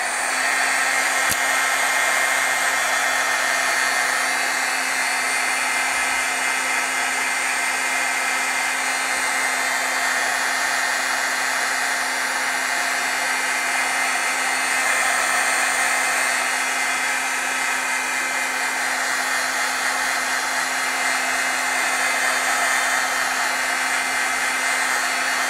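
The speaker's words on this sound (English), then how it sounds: "So let's heat set again." A heat tool blows hot air to set stamped ink, producing a loud, constant fan whoosh with a steady motor hum that runs close and unchanged throughout.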